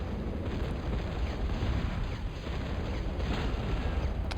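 Thud artillery units in the Total Annihilation strategy game fire amid a dense, continuous rumble of booming explosions and battle noise, loud and sustained with no voices.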